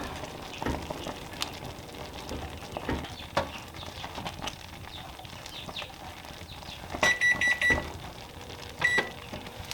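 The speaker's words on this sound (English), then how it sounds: "set my timer for 1 minute" Electronic kitchen timer being set during strawberry preserve making, giving a few short, high beeps near the end amid faint kitchen clatter and stirring, with no speech.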